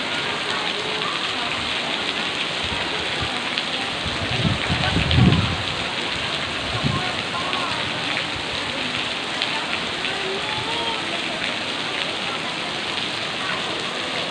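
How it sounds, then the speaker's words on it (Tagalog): Heavy rain pours steadily and continuously outside a church, a dense unbroken hiss throughout, with a brief low rumble midway that may be distant thunder. "Inabot lang kami ng malakas na ulan"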